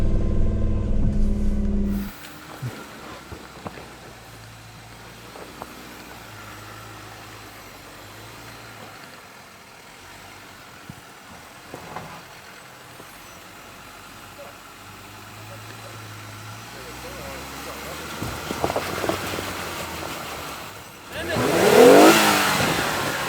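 A Hemi-swapped Jeep Gladiator climbs a rocky V-shaped section of a tough Ozarks off-road trail, its engine rumbling and revving in low surges, building to a loud rev near the end, with faint voices in the background.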